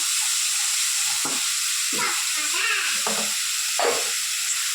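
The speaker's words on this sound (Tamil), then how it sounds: "எல்லாத்தையுமே நல்லா வதக்கிக்கலாம்" Greens and tomatoes sizzle steadily in a pan while being sautéed for a home dinner gravy, a constant loud frying hiss with occasional stirring scrapes and a faint voice underneath.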